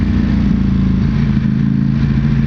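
A 2021 Ducati Panigale V4S ridden on the road, its engine a loud, steady close-up rumble held at constant speed, with wind noise blended over the throb for a couple of seconds.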